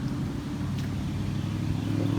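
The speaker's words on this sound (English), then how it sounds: "loud truck. Excuse the noise." A loud truck engine idling nearby in a garden, a steady low rumbling drone that holds evenly throughout, close and continuous, with no talking.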